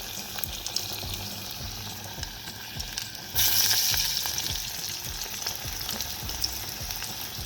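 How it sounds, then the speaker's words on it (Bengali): Lentil fritters (dali bora) fry in hot oil with a steady, close bubbling sizzle that swells louder partway through and then carries on evenly, with no voices. "ডালি বড়া ছাড়িয়ে দিলাম গরম তেল দেখানি"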